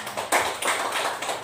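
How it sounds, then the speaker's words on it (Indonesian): Short burst of audience clapping at a school teacher-training event, a few loud claps rising then holding steady briefly, no talking. "Kasih tepuk tangan buat Bu Belia."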